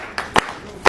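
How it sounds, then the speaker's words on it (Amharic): A few scattered hand claps ring out at a car handover ceremony, three separate sharp claps spread over about a second with a quiet room between them, rather than full applause. "እስኪ ጭብጨባ ሁላችን"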